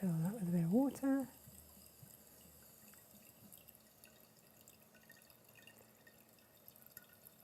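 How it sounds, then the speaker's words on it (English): Water trickles and drips into a steam iron as it is filled, faint and intermittent, after a brief burst of speech at the start. "Let's fill that with a bit of water."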